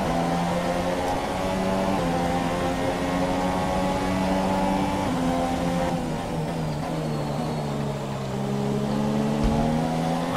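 Formula 1 race car engine in the F1 2017 video game, a loud, steady high-pitched whine with clear harmonic bands that dip and rise through gear changes across the whole stretch, no talk over it.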